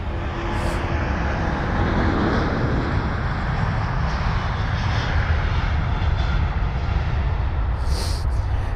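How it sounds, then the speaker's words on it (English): A British Airways Boeing 787-9 Dreamliner at London Heathrow fills the air with a loud, steady jet engine roar, sustained and close with no talk over it. "This here is going to be BA243, a 7879 Dreamliner with the reg Golf Zulu Bravo Kilo Golf or GZBKG heading to Mexico City"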